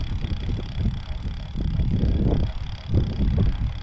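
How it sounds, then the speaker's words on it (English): Northwest wind buffets the microphone in low, rumbling gusts that swell and ease for a few seconds, steady and close with no voices. "We got a northwest wind"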